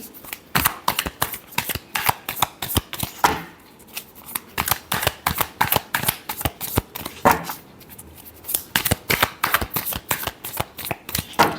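Tarot cards are shuffled by hand in quick bursts of crisp riffling and slapping, close and loud, with short pauses between rounds and no talking.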